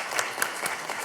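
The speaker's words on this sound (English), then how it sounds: "I think we should give the Academy staff here a round of applause" Steady applause from an audience, a dense wash of clapping with no voices over it.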